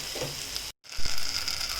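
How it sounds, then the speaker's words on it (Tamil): Tomatoes sautéing in a pan of oil for ginger rasam give a steady, close sizzle that cuts out for a brief moment midway and then resumes with a soft stirring clatter. "இப்போ தக்காளி இதில் சேர்த்தாச்சு. தக்காளி லைட்டாக கொஞ்சம் வதங்கட்டும்."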